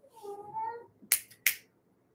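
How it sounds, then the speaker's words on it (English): A house cat going nuts indoors gives one drawn-out, wavering meow, followed by two sharp, close clicks, then quiet. "Sorry, our cat's like going nuts."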